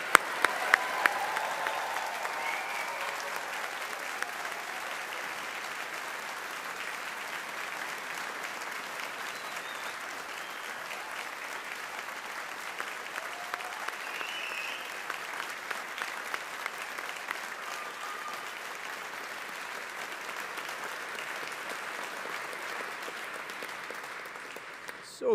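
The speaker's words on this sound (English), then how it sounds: "let's give the class of 2024 a big round of applause" A large audience at a university engineering graduation ceremony applauds the class of 2024, with sustained, even clapping from many hands that continues for about twenty-five seconds before fading out.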